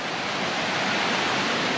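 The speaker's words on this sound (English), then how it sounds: "there's a really cool camping area next to these waterfalls" Waterfalls beside a camping area on the Three Ridges hiking trail in Virginia roar as a steady, dense, close rush of falling water with no voices.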